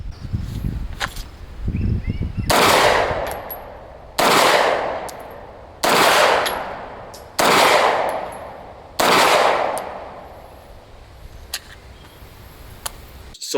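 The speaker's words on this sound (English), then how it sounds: "we're just going to take a couple shots in order to confirm" Five loud, close gunshots spaced about one and a half seconds apart, each with a sharp crack and ringing outdoor echo, fired to confirm the zero of a red dot sight.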